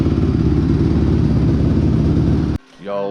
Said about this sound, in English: I'm going to let this bike warm up properly, let all the oils run around the engine,